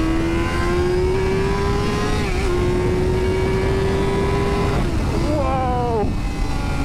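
A Yamaha R7 OW-02 superbike engine pulls hard under acceleration, a loud, smooth rising howl heard from the rider's position, with a brief gear change and a second climb near the end over heavy wind rush.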